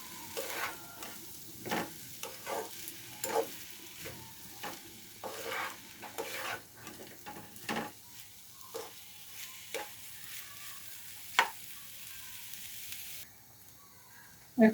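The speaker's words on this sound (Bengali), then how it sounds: "এখন দিয়ে দেব ধুয়ে রাখা চাল ও ডালের মিশ্রণ, একটু নাড়াচাড়া দিয়ে ভেজে নেব কিছুক্ষণ।" Washed rice and dal mixture frying and being stirred in a pan for chicken khichuri, with a steady soft sizzle broken by repeated scraping stir strokes at a close, moderate level.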